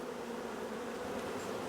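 Honeybees buzz steadily in an apiary in early spring, a continuous dense hum with no breaks and no voices.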